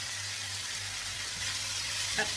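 Shrimp sizzling in a hot pan with bitter gourd, a steady close hiss of frying with faint stirring and a small clink near the end, no talking.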